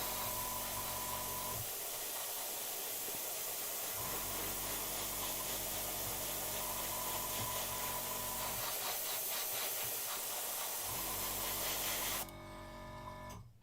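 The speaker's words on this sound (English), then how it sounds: "So I'm spraying just over the front height." Airbrush spraying paint onto a miniature model, a soft steady hiss in long bursts broken by short pauses, near and fairly faint, ending with a sudden drop to quiet.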